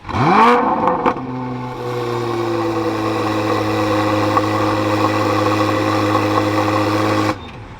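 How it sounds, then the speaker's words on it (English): A 2024 Chevrolet Corvette C8 Z06 fired up by remote start gives a sharp cranking burst and a loud flare of revs. It then drops into a steady, even idle that holds for several seconds before cutting off. "we can take a listen to this because it does have remote start. Let's bring it to life."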